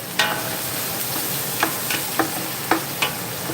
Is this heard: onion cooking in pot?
yes